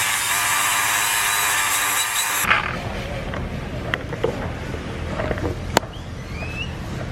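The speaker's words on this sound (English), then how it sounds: "I'm just going to grind a bigger circle and put 2 or 3 layers of glass over top" Power grinder working on a damaged sailboat keel in a boatyard, a loud continuous high whine for over two seconds that stops abruptly, followed by scattered clicks and knocks.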